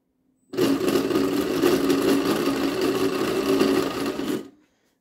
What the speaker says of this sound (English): this stick right and left now will control the actual blower motor